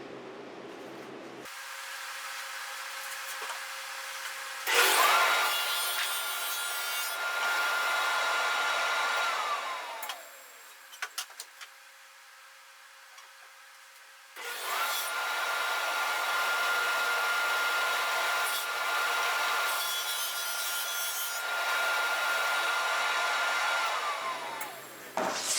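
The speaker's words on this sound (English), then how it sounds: "We've got the table saw set up to make our first cut." A table saw cuts plywood for a storage cabinet, its motor whining up into two long loud cutting passes with a quieter idle between, close by and without speech.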